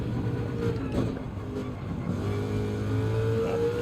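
A Mercedes CLK GTR's V12 engine in Gran Turismo 7 revs hard through first gear on the Nürburgring, a steady loud harmonic roar that rises in pitch with brief dips between pulls.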